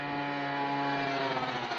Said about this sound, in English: We'll let the loud scooter pass by.